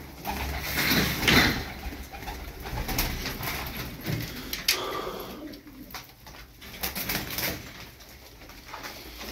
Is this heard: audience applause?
no